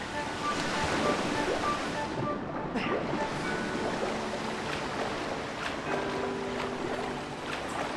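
Ambient rushing water of the Waterfall Cave area in the video game Legend of Zelda: Skyward Sword, a steady broadband wash of flowing water with faint tonal game music underneath, even in level and continuous.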